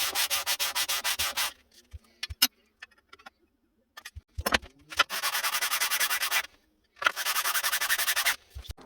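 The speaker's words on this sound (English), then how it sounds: "I'm going to give it a clean up on the sander" A sander works over the edges of a wooden custom twin guide fence for a Festool OF1010 router, running in steady loud bursts with pauses, scattered light knocks and handling clicks between passes.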